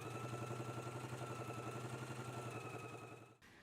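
A home sewing machine stitches a 5/8-inch seam allowance in a steady rapid mechanical chatter, running continuously and close before stopping abruptly near the end.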